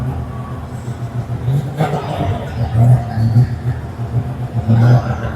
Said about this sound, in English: That is a super famous RX-7. We're actually going to have it reversing in here